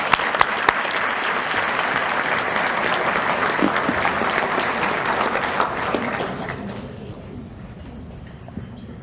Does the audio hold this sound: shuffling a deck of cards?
no